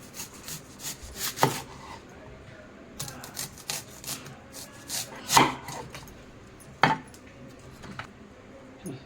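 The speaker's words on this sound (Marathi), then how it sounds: "दोन कांदे घेतलेले आहे कांद्याचे आपल्याला आता रिंग्स घ्यायचे आहे काढून" Onions being sliced into rings on a cutting board, heard as irregular knife strokes and scraping with a few sharper chops standing out over a rustling background.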